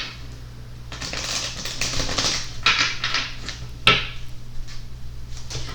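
A tarot card deck being cut and handled, giving bursts of crisp papery riffling and shuffling clicks with a couple of sharper taps, close up over a low steady hum.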